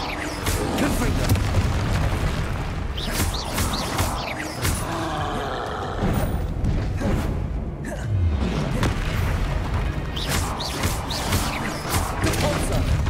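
Repeated Confringo fire spell blasts in Hogwarts Legacy boom loudly amid ongoing combat crashes and thuds. The impacts are dense and continuous, and a voice calls out spells in between.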